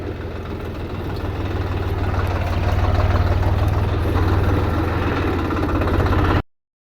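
A tractor engine idles close by in a steady low throbbing rumble, holding evenly for several seconds before cutting off abruptly near the end.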